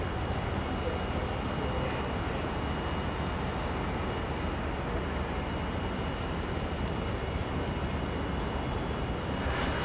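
A Qantas airliner lands on runway 19 left at Brisbane International Airport, a continuous loud engine roar and rushing wind noise holding steady from start to end.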